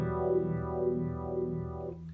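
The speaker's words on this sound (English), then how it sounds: "I put it back in phaser mode" A sustained synthesizer tone from a single sine wave sweeps with a slow, swirling phaser effect, its harmonics rising and falling in repeating waves before fading out.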